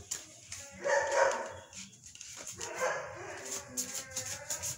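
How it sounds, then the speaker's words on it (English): Several pet dogs bark and whimper indoors, with yips and whines rising and falling in loose bursts across the clip at moderate loudness, no one speaking over them. "My dogs are out of control today."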